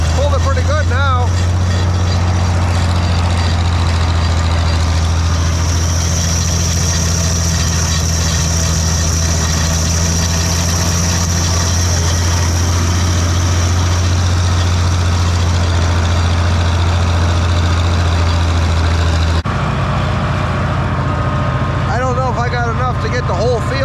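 An International 1256 tractor engine idles steadily throughout, a deep low rumble close by with a constant even drone, and a short break in tone near the end.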